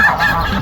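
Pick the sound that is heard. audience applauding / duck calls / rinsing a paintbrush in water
duck calls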